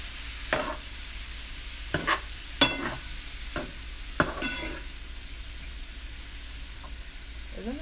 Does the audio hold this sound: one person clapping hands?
no